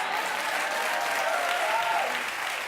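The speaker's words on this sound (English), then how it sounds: "Clap it up again for Michael Ealy" Studio audience at a talk show breaks into sustained applause, a dense steady wash of many hands clapping close and loud throughout, with a faint cheer rising briefly.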